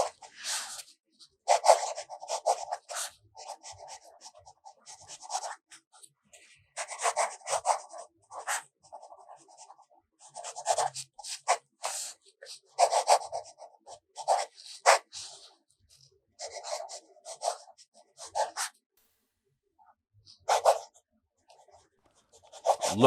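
A gold-nib fountain pen inked with De Atramentis Artist Ink Black scratches across AmPad paper in close, dry bursts of strokes, separated by short pauses.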